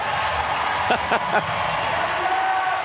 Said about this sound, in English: Nadia Beckley then of Egypt thanking the crowd. And they show their appreciation in return